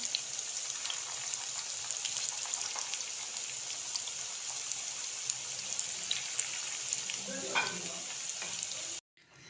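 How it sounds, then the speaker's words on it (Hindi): Cauliflower koftas fry in hot oil with a dense, steady bubbling sizzle, close and constant before it cuts off abruptly at the end. "हमने सारे कोफ्ते फ्राई कर लिए हैं"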